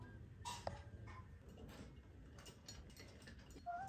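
A sewing machine running steadily as it stitches elastic onto fabric from an old dress, giving a faint, continuous mechanical whir with soft ticking and rattling through the whole stretch.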